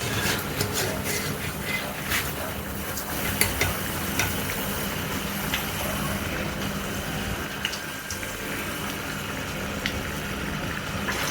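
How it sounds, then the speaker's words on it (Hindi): Cauliflower pakoras fry crisp in a wok of hot oil, giving a dense, even crackling sizzle with scattered pops throughout, close and steady, with no talk. "अब ये पकौड़े फ्राई हो गए हैं और क्रिस्पी भी हो गए हैं"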